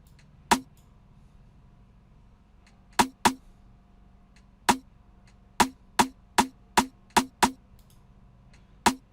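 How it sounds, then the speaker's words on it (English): Sharp, isolated percussion hits for an Amapiano beat, a couple of sparse strikes early then a quick run of evenly spaced hits near the end, each crisp and bright over a faint hum with no talking. "So I added more percussion here,"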